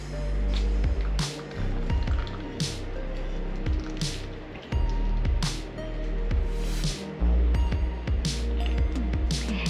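Seasoned butter and oil pour and drip steadily through a strainer into a bowl, with soft splashing and occasional clinks, close by.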